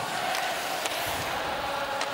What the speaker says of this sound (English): The crowd singing loud at Verdun